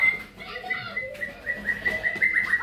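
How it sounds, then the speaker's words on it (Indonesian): Long-tailed white-rumped shama singing a continuous run of high, sustained whistled notes with fluid trills, fairly close and clear over a soft background. "balak ekor panjang dan burungnya jinak"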